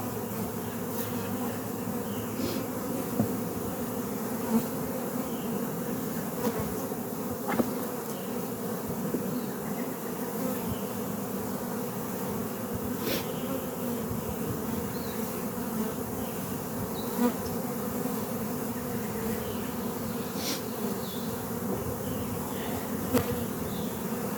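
A honeybee colony hums in an open hive, a dense continuous buzz close by with occasional louder individual bees passing, steady throughout with no talk.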